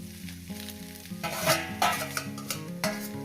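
Eggplant pieces stirred and frying in a hot pan, a steady sizzle with scraping stir strokes and a few louder clatters of the spatula against the metal, close and alone with no voices.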